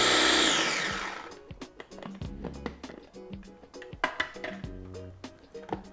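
A kitchen blender mixing Gado Gado ingredients runs loudly for about a second, then stops. Uneven thumps and clunks follow as it is handled.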